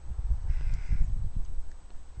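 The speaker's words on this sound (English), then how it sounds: "Birds are singing." Birds calling outdoors in a neat churchyard in Suffolk, a few short rough caws at close range over a low rumble of wind or handling noise, with a faint steady high whine.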